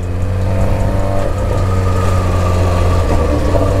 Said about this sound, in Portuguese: O barulho dessa moto, rapaziada, tá muito alto.